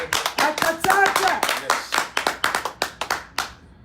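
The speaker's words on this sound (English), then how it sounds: "Clap for Comrade." A small group claps for Comrade Sowore at a live gathering in Dallas, starting with a burst of irregular claps under a speaking voice, then settling into a distinct rhythmic clapping that fades out.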